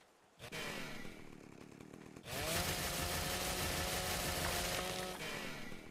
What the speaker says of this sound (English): All right, let's see if it's better with a chainsaw.